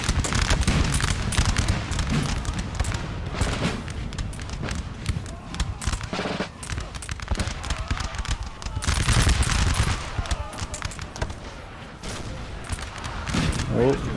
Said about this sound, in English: the artillery is finally targeting this position